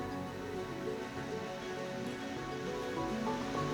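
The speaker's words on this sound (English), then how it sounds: "Nice and atmospheric with the rain." Rain falls outside an abandoned countryside hospital, a steady, soft, even patter and hiss with no voices, continuous and moderately faint.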